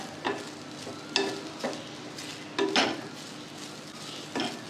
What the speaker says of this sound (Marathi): लसूण जास्त नाही भाजून द्यायचा, अगदी हलकासा भाजून घ्यायचा।